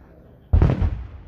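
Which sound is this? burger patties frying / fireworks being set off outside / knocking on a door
fireworks being set off outside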